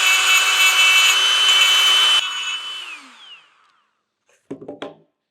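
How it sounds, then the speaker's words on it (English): A handheld angle grinder cuts a V-groove into a metal water pump pulley, giving a loud steady high-pitched whine that spins down after about two seconds, followed by a brief burst of scraping near the end. "So we'll just come in here and just use this grinder to"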